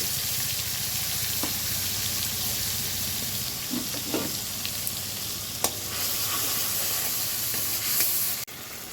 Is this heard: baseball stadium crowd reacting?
no